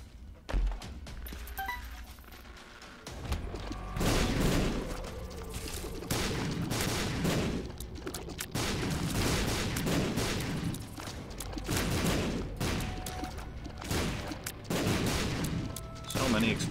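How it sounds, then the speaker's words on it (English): Dense, continuous bursts of explosions and gunfire in The Binding of Isaac: Rebirth, loud and chaotic, with booming bomb blasts repeating for the whole stretch. "Explosions."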